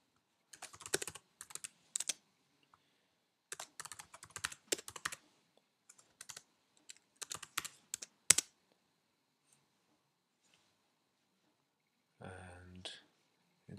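Typing in Microsoft Word on a computer keyboard: bursts of close clicking keystrokes with short pauses between them and one sharper key strike, followed by a brief tonal hum near the end.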